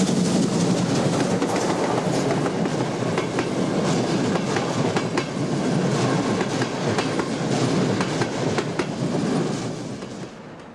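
A DRB class 52 steam locomotive from the Wustermark depot, fitted with a large snowplow, passes with its train: a loud, steady rolling rumble with rhythmic clickety-clack of wheels on rail joints that eases off at the very end.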